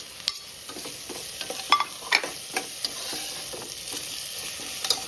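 Tomatoes hit a frying pan of ginger and garlic for a chicken dish, sizzling steadily while a spoon scrapes and stirs in quick, irregular clicks close by.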